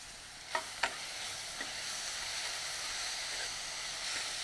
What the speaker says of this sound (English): followed by grated onions, after adding the onions, I will be adding 1 teaspoon of salt.